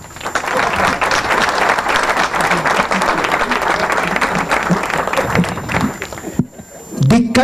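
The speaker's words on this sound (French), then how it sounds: "On applaudit." A book-signing audience bursts into loud, sustained applause that fills most of the moment, then drops off abruptly before a voice resumes at the end.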